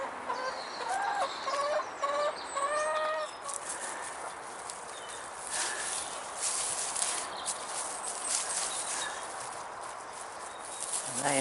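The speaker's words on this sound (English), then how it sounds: "what we're going to do now is give the hens a good feed." Hens clucking and a rooster-like call in a backyard allotment enclosure at feeding time, several birds close by with repeated short clucks and squawks over scuffling, busy activity, fairly quiet overall.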